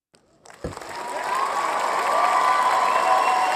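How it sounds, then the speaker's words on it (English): An audience bursts into applause and cheering after a sharp thump, and the clapping and shouting swell quickly into a dense, sustained roar of crowd noise. "then the crowd's gone wild."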